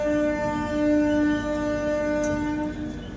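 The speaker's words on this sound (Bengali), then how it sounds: "1722 কিলোমিটার রাস্তা পেরিয়েছে SMVT Bengaluru superfast express Katpadi station এসে দাঁড়ালো।" A long-distance superfast express train at Katpadi station sounds a steady, loud multi-tone horn held for about three seconds, with station rumble underneath.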